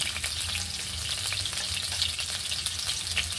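Ginger sautéing in a pan, a close, steady frying hiss with brisk crackles and occasional stirring, alone without talk.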